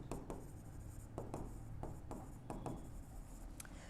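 A pen writes on paper while a finance lesson on piecemeal cash distribution is worked out, producing soft scratchy strokes in short separate bursts, close but faint.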